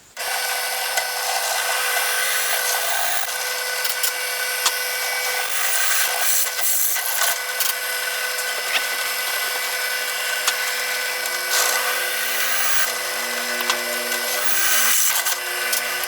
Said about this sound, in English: We're going to just drill these for the pinholes and see how we go from there.